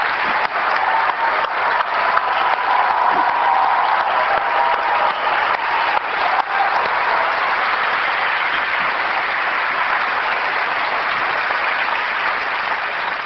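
An audience at an Apple event breaks into sustained, dense applause, loud and even throughout, with clapping from a large crowd filling the hall.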